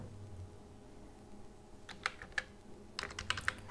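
Fingers type on a computer keyboard, entering a user ID, password and captcha code, with a quiet stretch before irregular clusters of sharp key clicks toward the end, close and fairly faint.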